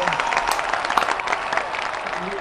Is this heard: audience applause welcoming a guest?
yes